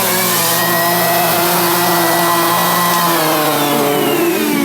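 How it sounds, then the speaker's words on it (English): An aquarium vacuum runs continuously during saltwater tank maintenance, a loud, steady motor whine with tonal hum lines holding unchanged from start to finish, with no talking. "I put the vacuum on for a second."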